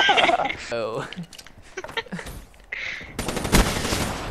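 Automatic gunfire rattles in bursts in Black Ops 3. Voices talk and laugh over the shots, and a dense volley closes the stretch.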